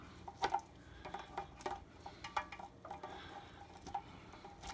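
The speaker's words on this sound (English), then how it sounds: "Let's see if I can cut it with a plastic knife." A plastic knife saws through cooked pork tenderloin, making faint, quiet clicks and light scrapes against a plate. The short, irregular taps come close by in a near-silent room.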